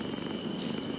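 Cat purring in the video game Dark Parables, a steady, soft, continuous rumbling purr with no pauses, alone at low level.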